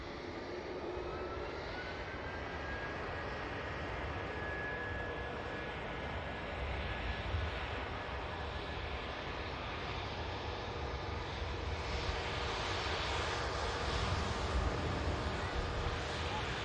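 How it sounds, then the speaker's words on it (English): A British Airways airliner on the runway at Manchester Airport, its engines giving a steady distant roar mixed with wind noise across the whole stretch, with a faint tonal whine running through it. "The British Airways. It's on the runway now. Should be taking off soon."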